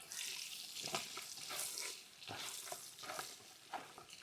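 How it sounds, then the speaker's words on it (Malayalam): Garlic and green chillies frying in oil for a Kerala-style sardine pickle, a soft steady sizzle with occasional stirring scrapes, quiet and close. "ഇനി നമുക്ക് വെളുത്തുള്ളി ഇട്ട് കൊടുക്കാം. പച്ചമുളക് ഇട്ട് കൊടുക്കാം,"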